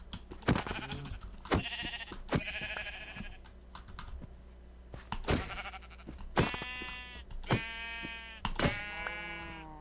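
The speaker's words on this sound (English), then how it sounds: "Never thought I'd sink to bludgeoning sheep to death with wooden implements again" Sheep in a video game bleat repeatedly as they are struck with wooden tools. Sharp, dry whacks land between the wavering cries, and the bleats grow louder and more frequent toward the end.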